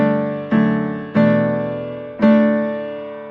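An upright piano preset from a piano plugin plays three sustained notes or chords at uneven intervals, each with a bright attack that rings and slowly fades, heard alone.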